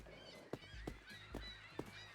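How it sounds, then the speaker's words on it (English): A few faint, evenly spaced honking bird calls ring out in a video game, four short cries from a flock of seagulls over a low hum, no talk. "A flock of seagulls?"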